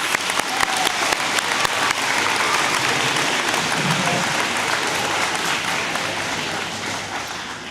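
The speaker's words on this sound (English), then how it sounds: "Let's give her one more round of applause." Sustained applause from an audience at an eighth-grade moving-on school ceremony, dense and continuous clapping that holds steady and then gradually tapers toward the end.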